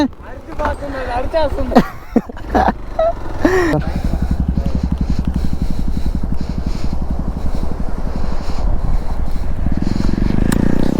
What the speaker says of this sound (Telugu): రాము భయంకరంగా అరిపిస్తున్నా బండిని